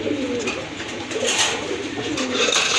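Pigeons coo softly and continuously, close by, with a steady murmuring background and faint rustling throughout.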